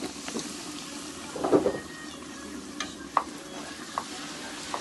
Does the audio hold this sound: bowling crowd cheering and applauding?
no